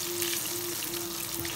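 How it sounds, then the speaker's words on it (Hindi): Chicken pieces fry in a pan for a zinger mayo roll, giving a continuous, even sizzle with a steady hiss close by and no voices. "अब एक एक करके हम इसमें फ्राई कर हम फ्राई कर लेंगे चिकन को हमारे"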